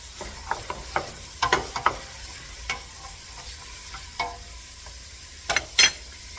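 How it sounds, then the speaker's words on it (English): Vegetables sizzle gently in grease in a pot for chicken tortilla soup while a spoon stirs them, giving scattered scraping clicks and clatters over a soft, steady frying hiss. "as you add in a new vegetable, you can give the pot a little stir, just so that they're all getting coated with the grease"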